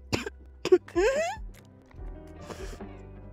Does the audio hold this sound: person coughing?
yes